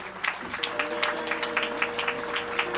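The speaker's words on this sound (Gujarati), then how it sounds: "તો આપણે તાળીઓના ગગડાથી આપણે વધાવી દઈએ." An audience at a Ram Katha gathering in Nana Palsana claps in honour of an offering, a moderate round of continuous applause with distinct individual claps and a faint hum beneath.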